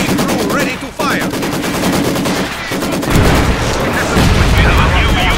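Heavy machine gun bursts in a World War combat game, a Maxim among the weapons, rattle loud and close amid other gunfire and blasts, with game voices calling out over the shooting.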